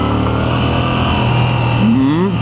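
Moto Guzzi V7 Sport motorcycle with its stock exhaust, engine droning steadily at speed above 50, then a brief rising rev near the end, with wind noise throughout.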